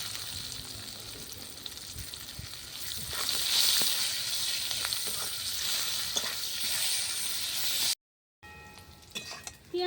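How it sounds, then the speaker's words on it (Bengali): Chopped onions frying alongside bay leaf and garam masala in a pan over a clay stove, a continuous close sizzle and crackle that builds slightly, then cuts off abruptly before resuming briefly. "পেঁয়াজটা এভাবে লাল করে ভেজে নিয়েছি।"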